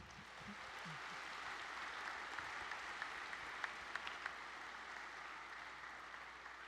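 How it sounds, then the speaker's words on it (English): An audience claps steadily in a hall after a panel session, a dense, even wash of applause at moderate distance that carries on for several seconds with a few sharper individual claps. "Let's give another round of applause for our panelists"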